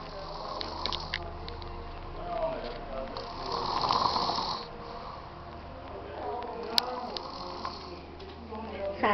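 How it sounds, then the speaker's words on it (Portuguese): A person snoring while asleep at a party, with soft rasping breaths rising and falling over several seconds amid background chatter and room noise. "dormindo, roncando"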